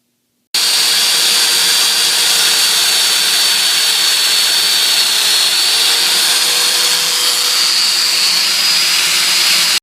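A Festool Domino joiner cutting mortises in plywood runs with a loud, steady, high whine. It holds for about nine seconds without a break and is heard alone with no talking.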